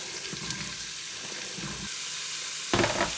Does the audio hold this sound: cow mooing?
no